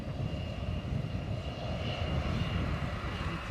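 A WestJet airliner departs Edinburgh Airport with a steady, broad engine roar that holds at an even, moderately distant level throughout, with no voices.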